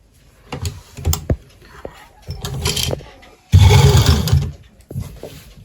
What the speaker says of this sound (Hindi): आप मशीन का टांका बड़ा कर दे और इस तरह से बराबर पकड़ते हुए लाइनिंग को और कपड़े को इस तरह से सिलना शुरू करें।